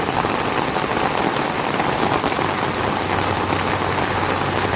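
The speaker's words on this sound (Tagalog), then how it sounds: "Lakas talaga ng ulan." Heavy rain pours down in a steady, dense roar, loud and close, with no letup and no voices.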